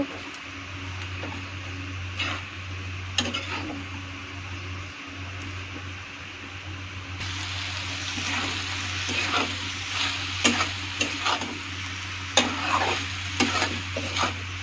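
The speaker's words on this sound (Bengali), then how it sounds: "ছেড়ে দিয়ে পালং শাকটা একটু নেড়ে চেড়ে নেব" Spinach tossed into a pan with browned potatoes and stirred, giving a constant sizzle and a low steady hum, broken by a series of sharp spatula scrapes and clatters that grow more frequent.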